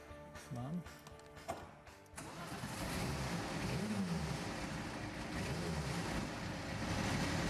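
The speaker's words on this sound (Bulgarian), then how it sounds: "Двигателят на Порше трябва да бъде събуден за живот." A Porsche engine cranks briefly, catches, and settles into a steady low rumble that holds loud and continuous to the end.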